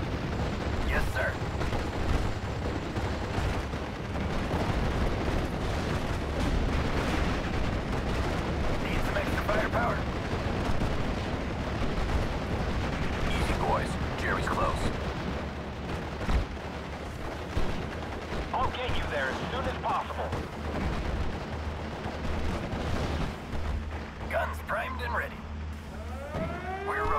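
Artillery fire in the WWII strategy game Steel Division: Normandy 44, a dense, continuous din of booming guns and gunfire with mechanical clatter throughout, and brief voice lines under the battle noise.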